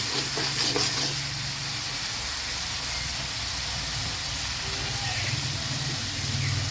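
Cauliflower, potatoes and other vegetables tipped into a pan of cooked-down spice paste and oil, giving a steady, loud hiss and sizzle throughout with a few soft clatters early on.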